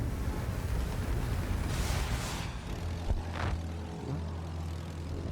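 German fighter planes in the World War I video game Battlefield 1 roar with a steady propeller engine drone, close and loud, with whooshing passes and distant thuds of fire.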